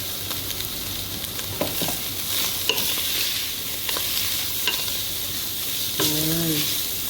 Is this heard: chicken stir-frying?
yes